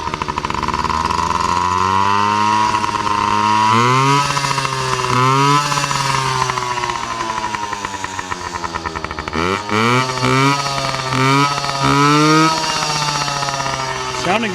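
A Yamaha PW50 dirt bike's small two-stroke engine runs with a freshly cleaned carburetor, buzzing loud and close with repeated revs rising and falling throughout.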